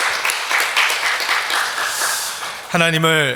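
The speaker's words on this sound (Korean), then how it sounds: "우리 감사의 박수를 올려드리겠습니다." Church congregation applauding during a 17th anniversary thanksgiving service in Las Vegas, a dense, steady wash of many hands clapping that gives way near the end to a single voice speaking.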